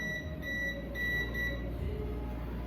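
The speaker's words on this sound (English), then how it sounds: "So now you can see it starts to beep" A handheld voltage tester beeps steadily near a leaking ballast, repeated high tones in short bursts with brief gaps, over a constant low electrical hum.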